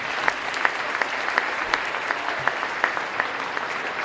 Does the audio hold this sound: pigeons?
no